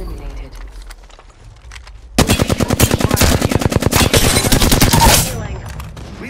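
Rapid automatic gunfire bursts loudly from a weapon in the video game Apex Legends, a dense rattling stream of shots lasting about three seconds after a quieter stretch with faint background noise.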